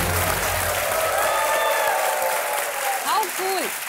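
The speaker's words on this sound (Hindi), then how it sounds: "तालियां बजती रहे देवी सजना." A studio audience on a KBC quiz show applauds loudly and continuously, a dense wash of clapping that fades slightly toward the end as a voice starts speaking.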